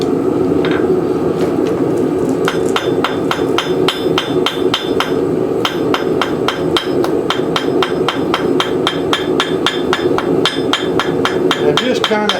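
Hammer blows ring out on metal over an anvil as a piece is drawn to a point, a fast, steady run of sharp, loud strikes close by, with brief pauses between bursts.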